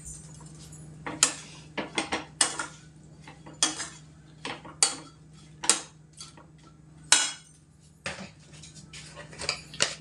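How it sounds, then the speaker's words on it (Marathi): Masala-coated okra tipped into a cooking pan, with repeated sharp clinks and scrapes of utensil against pan at irregular intervals over a steady low hum, close by and fairly quiet, no talking. "त्यानंतर मी जे मसाला लावून ठेवलेली भेंडी आहे ती मी ॲड करते याच्यामध्ये"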